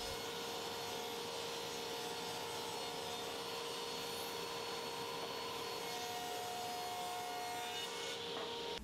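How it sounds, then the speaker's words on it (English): A saw rips poplar boards lengthwise, giving a steady, loud whine with a rough, rasping cutting texture throughout, and no voices. "I'm going to start by ripping down the parts for the top box and the corbels"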